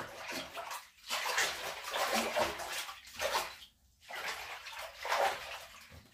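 A bathtub fills with water and bubble foam, the running stream rushing and churning in loud surges with short dips between them, close by.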